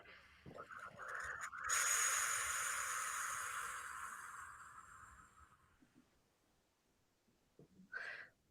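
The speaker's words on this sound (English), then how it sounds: "slowly exhale out your mouth for 8" A person takes a deep breath and then releases a long, slow exhale through the mouth, a soft breathy rush that swells and fades over several seconds, close and quiet, ending with a short sniff or snort.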